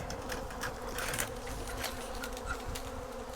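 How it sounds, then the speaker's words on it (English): A swarm of farm bees hums in a dense, continuous drone close by, with individual insects buzzing past now and then; no voices. "Ooh, we got bees all over the ground."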